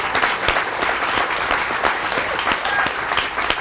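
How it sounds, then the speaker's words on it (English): A live talk-show audience gives thunderous farewell applause, a thick, continuous roar of clapping that stays loud and close for the whole stretch. "I want to give her a thunderous applause because we're going to miss her."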